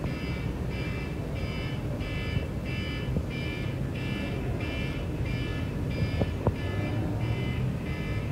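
Several alarm clocks ring together in steady repeating bursts of bright electronic beeping, pulsing about once a second over a constant background hum.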